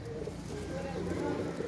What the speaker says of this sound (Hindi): ये कबूतर चेक कर लीजिए, असल कमगर कबूतर है